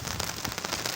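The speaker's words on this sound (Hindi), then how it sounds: "दूसरी तरफ बारिश हो रही है" Rain falls steadily on a rainy day near open farm fields, a dense, even hiss of drops pattering on surfaces throughout a short stretch with no voices.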